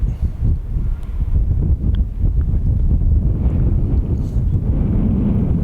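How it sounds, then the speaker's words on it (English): Strong wind of about 20 miles an hour buffets the microphone on an open golf course, a steady low roar and rumble that continues for the whole stretch with no voices. "the wind, as you can tell, it was probably blowing 20 miles an hour"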